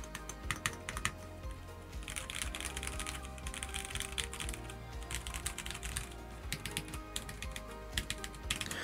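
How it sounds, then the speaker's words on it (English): Steady, brisk typing on a stock wired 75% budget mechanical keyboard, a continuous patter of close, clear keystrokes with occasional heavier clacks and no voices. "I was surprised at how well this keyboard sounded stock."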